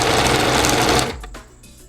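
Sewing machine stitching a saree fall, running fast and loud with a dense whirring rattle for about a second, then slowing and stopping into quieter handling noises.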